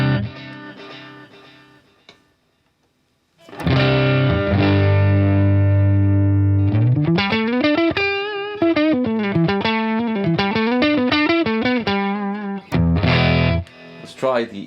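An electric guitar played through a Boss Katana 50 Gen 3 amp on its pushed channel with boost and reverb off. Distorted chords and riffs ring out loud after a short silence, with sustained tones, a pause and a final strummed burst.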